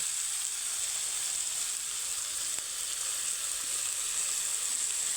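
Food fries in a pan with soy sauce, giving a steady, bright sizzle and crackle that stays constant and close throughout.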